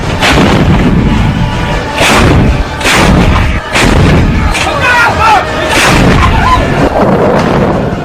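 Army artillery cannon fires shells in the mountains, a dense run of loud deep booms roughly every second, each rolling into long echoing rumble across the hills.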